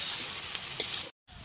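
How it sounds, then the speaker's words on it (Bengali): Chow mein and vegetables sizzling in a pan while being stirred, a close hissing sizzle with a few utensil scrapes, cut off by a short silent gap before the sizzle resumes. "অল্প অল্প করে দেবো আর ভালোভাবে নাড়িয়ে নেব।"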